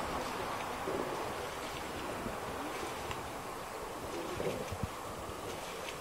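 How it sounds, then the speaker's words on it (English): Soft, continuous lapping of water on a Norfolk Broads lake at sunset in December, with a light breezy hiss, low and steady throughout with no voices. "The water sounds lovely."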